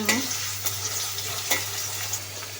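Onion and green chili frying in oil in a wok, a steady close sizzle with a few soft clinks of stirring and a low background hum.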